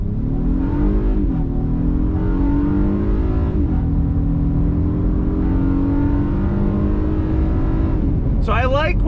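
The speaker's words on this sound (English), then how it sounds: "we're gonna do some on throttle acceleration here" A 2022 Honda Passport TrailSport with a naturally aspirated V6 pulls away from a stop, its loud engine note climbing steadily through the gears with brief dips at the shifts, close and continuous, with a short whine near the end.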